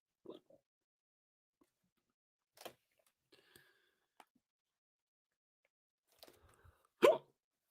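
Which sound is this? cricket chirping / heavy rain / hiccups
hiccups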